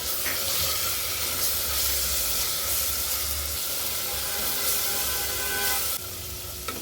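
Ground coriander, mint and ginger-garlic paste sizzling with fried onions in a hot pan, a steady close hissing fry that continues throughout before softening slightly near the end.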